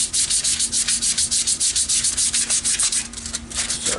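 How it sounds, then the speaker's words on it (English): Sandpaper is rubbed dry along the grain of a turned wood bud vase, making a rapid, steady rasping in quick back-and-forth strokes, close and fairly loud, with a faint lathe hum underneath. "if I go with the grain now, that will help remove any radial sanding marks that there might be"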